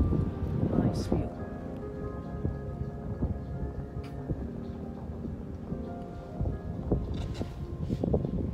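Steady wind rumbles and buffets the microphone throughout at a harbour in Auckland, New Zealand, loud and close, while a person talks over it.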